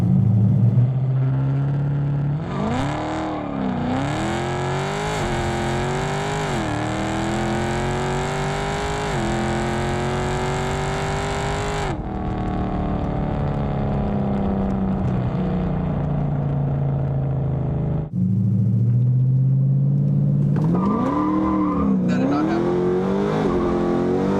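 A 392/426 HEMI car pulls away from a dead stop with a loud, close engine roar that climbs in pitch through several revving surges, eases off briefly, then rises again.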